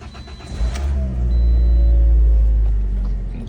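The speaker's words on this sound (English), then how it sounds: "And the car fires up." A 2019 Toyota Corolla engine cranks and fires up, settling into a loud, close, steady idle rumble with a slight rev, heard alone without talk.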